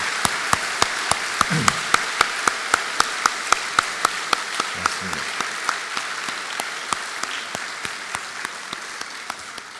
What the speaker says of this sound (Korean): 우리 청년부를 위해서 한번 격려의 박수를 보내도록 하겠습니다.